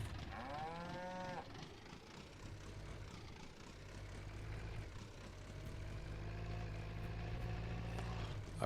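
Cattle in Farming Simulator 19, one clear, drawn-out moo near the start over a faint, steady hum of farm machinery that continues alone afterward, quiet overall.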